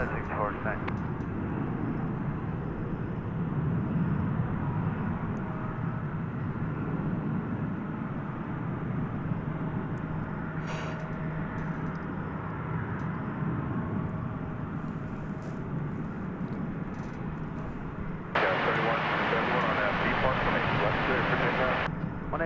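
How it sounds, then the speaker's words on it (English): A jet takes off from a runway at DFW airport after dark, a long steady roar heard from a distance that swells louder toward the end, with faint talk and clicks in the background. "as soon as that one takes off, another one is authorized to launch"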